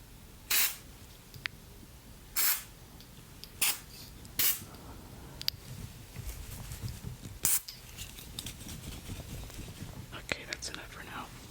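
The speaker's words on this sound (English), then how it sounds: "So let's spray some of that." Close, soft bursts of spray hiss from a spray bottle, about five short separate pumps in an ASMR setting, with gentle whispering and quiet handling noises between them.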